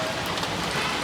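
Heavy rain pouring down in a steady, dense hiss of falling water, loud and close throughout the short stretch, with no voices.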